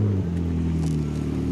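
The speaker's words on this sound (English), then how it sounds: "We've just been going up and down this hairpin with all of the other supercars" A supercar engine droning on a mountain hairpin road, a loud, steady close-up hum with a pitch shift as it accelerates, lasting under two seconds.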